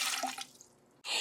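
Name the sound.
melted snow water poured into a measuring tube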